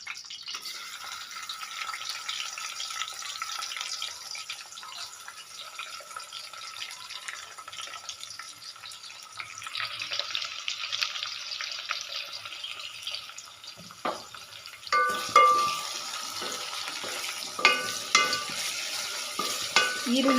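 Onions fry in hot oil with a soft, even sizzle and occasional stirring. Near the end, sharper clinks and scrapes of utensils join the hiss, which is otherwise fairly quiet and close.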